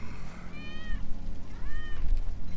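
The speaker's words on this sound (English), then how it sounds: "That's Wedge's cat" A cat meows twice in the Final Fantasy 7 Remake video game, two drawn-out calls about a second apart, fairly clear over a low background rumble.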